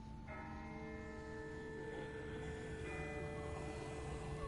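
A distant church-type bell rings steadily in a TV series scene, its sustained metallic tones layered over a low outdoor background hum, with no talking.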